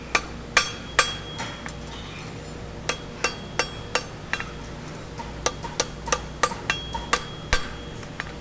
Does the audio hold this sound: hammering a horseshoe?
yes